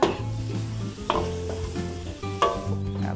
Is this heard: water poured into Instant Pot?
no